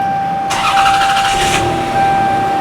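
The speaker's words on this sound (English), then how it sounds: "Start the car. Took a while to start." A 1994 Toyota Camry 3.0-litre 1MZ-FE V6 engine with fuel issues cranks for about a second, then catches and settles into a steady idle, heard up close.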